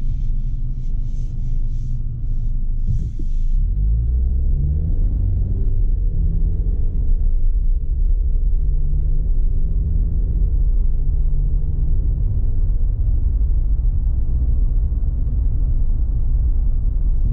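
A 2021 Jeep Wrangler Unlimited Rubicon drives along with a deep, steady engine and road rumble heard from inside the cabin, a faint rise in pitch as it accelerates early on.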